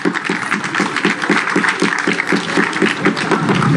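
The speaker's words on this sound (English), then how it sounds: "Round of applause, please." A crowd gives a loud, steady round of applause at a school football season media launch, dense clapping that keeps up for the whole stretch with no pause.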